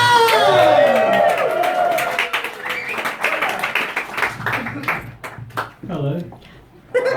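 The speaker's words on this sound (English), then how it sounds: "please give a massive round of applause going for Archie Brooks Watson!" Audience at a comedy show at the Angel clapping and cheering, a dense burst of applause with whistles and shouts at the start that thins into scattered claps as a voice begins speaking over it.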